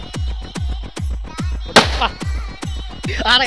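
A Diwali firecracker string goes off nearby in a steady run of sharp bangs about every half second, with one louder, crackling burst partway through.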